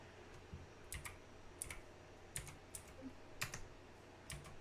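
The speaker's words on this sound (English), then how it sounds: "I started typing closed on my freaking PC." Keys clacking on a PC keyboard in short irregular bursts of clicks, fairly close and moderately quiet over a low background hum, with no talking.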